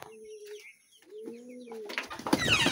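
Fayoumi chickens on a farm give a few clear tonal calls close by, followed by louder rustling and scuffling noise near the end.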